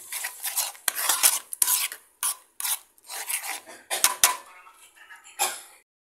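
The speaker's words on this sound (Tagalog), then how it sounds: "At muli natin itong halu-haluin." A mixture of water and sugar stirred in a bowl, giving quick scraping and rasping strokes in uneven bursts with short pauses between, close and fairly quiet.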